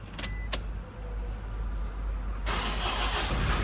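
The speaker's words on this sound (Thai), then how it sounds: "ฟังเสียงเครื่องครับ สตาร์ททีเดียวนะครับ" A 2010 Toyota Vigo 2.5 Prerunner pickup starts up in one go: a brief cranking whir catches and settles into a loud, close idle rumble.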